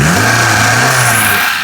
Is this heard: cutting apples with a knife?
no